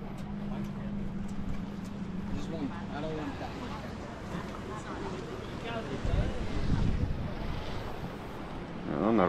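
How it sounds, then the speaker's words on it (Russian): Strong wind buffets a microphone aboard a large catamaran at sea, a steady roaring rumble with gusty swells, while people talk over it throughout. "И слишком сильно дует здесь."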